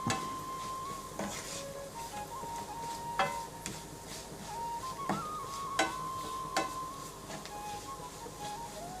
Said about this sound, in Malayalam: കാശ്മീരി ചില്ലി ഇട്ട് നല്ലോണം നമുക്കിതങ്ങ് വഴറ്റിയെടുക്കാം.